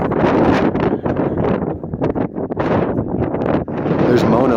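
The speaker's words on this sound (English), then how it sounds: "The winds are getting worse." Strong gusty wind in the Eastern Sierra mountains buffets the microphone in loud, roaring bursts that rise and fall, with someone talking over it.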